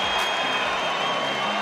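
Crowd at a professional boxing match roaring and shouting in a steady, dense wash of noise, with no clear break, as a point deduction is announced.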